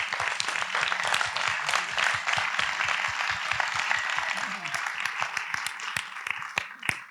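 Warm, close applause from an audience at a film event for Bastien, with many hands clapping steadily and a few voices murmuring underneath.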